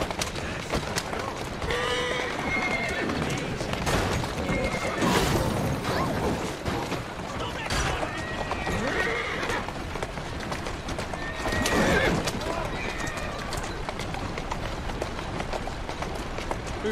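Horse hooves clip-clop at a running pace throughout in the Assassin's Creed Syndicate video game, with several neighs and whinnies rising over the galloping, close and loud with no voices.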